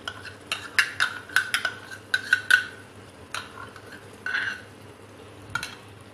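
Fresh cream being stirred into chicken handi in a pot over a low flame: a series of light spoon scrapes and clinks against the pot in uneven bursts, with a soft bubbling sizzle underneath.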